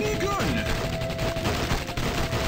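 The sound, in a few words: minigun firing in the video game Age of Zombies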